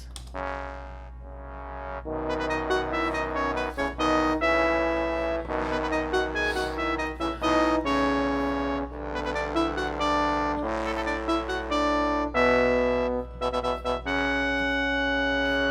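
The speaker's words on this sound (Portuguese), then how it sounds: "Agora o naipe principal de metais." A brass section plays sustained harmonized chords and short punchy phrases together. The horns are bright and full, with no voices and a low hum underneath.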